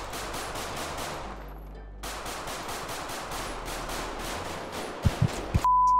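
Rapid automatic gunfire in GTA 5 roleplay, dense bursts of rhythmic shots with a brief pause near the two-second mark before firing resumes, ending with a few sharp single cracks, loud and close.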